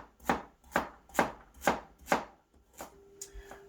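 Two carrots being chopped with a knife on a cutting board, six evenly spaced close chops followed by a few lighter taps, with no talking.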